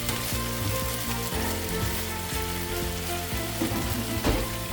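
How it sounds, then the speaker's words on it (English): Garlic and onion with tomato paste fry in a pan for a spaghetti seafood marinara, giving a steady, close sizzle with crackling pops throughout and no talking. "cook this together for about 1 to 2 minutes or until the garlic and the onion starting to"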